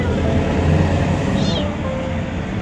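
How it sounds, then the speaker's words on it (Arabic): A kitten trapped down a hole where a tree once stood gives a single brief, high meow, faint beneath steady outdoor background noise. "اسمع صوت البس."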